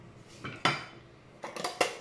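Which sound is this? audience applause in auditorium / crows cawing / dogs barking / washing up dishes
washing up dishes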